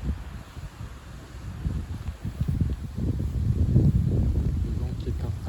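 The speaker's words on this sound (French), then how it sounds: "On entend le vent." Wind from an evening April shower gusts and rumbles against the microphone, a steady low blustery roar that builds in the second half.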